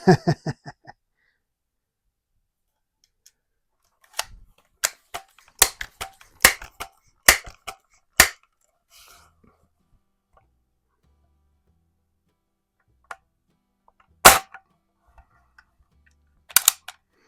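Air rifle shots from a 1992 Crosman 760 while plinking, heard as a quick run of about seven sharp cracks followed by two more isolated reports, with quiet gaps between them.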